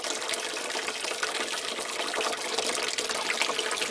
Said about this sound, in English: 90 degree outfall, pushing water in.